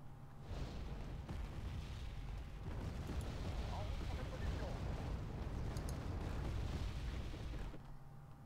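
Continuous rumbling bombardment from air strikes in the real-time strategy game Wargame Red Dragon, a dense low roar of overlapping explosions and booms running almost the full length, with a voice talking over it.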